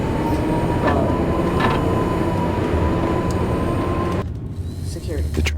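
A subway train rumbles loudly in the Max Payne video game, a continuous heavy roar with a faint high whine that suddenly drops away near the end.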